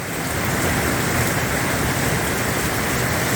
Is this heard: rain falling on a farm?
yes